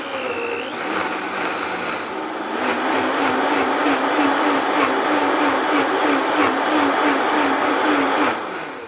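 A Vitamix blender spins up and roars through hot enchilada sauce, starting at a lower whirr, then rising to a loud, steady grinding howl for several seconds before cutting off.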